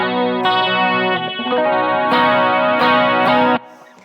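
Electric guitar with an aggressive, slightly out-of-tune chorus effect, played direct without an amp, rings out in sustained distorted chords for about three and a half seconds before cutting off abruptly.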